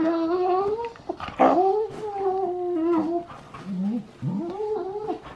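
Two dogs, one a new puppy, play together and keep up a steady run of whiny, moaning growls and yowling vocalizations, loud and close, with no talk.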